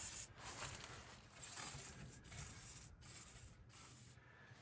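Bursts of aerosol lubricant spray hissing in short repeated blasts with brief gaps between, under an AMC Rambler, fairly close and quiet, no voices.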